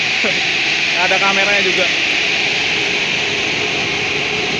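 Steady loud broadband whooshing hum of a Laksana bus air conditioner, constant throughout, with a brief spoken phrase over it early on.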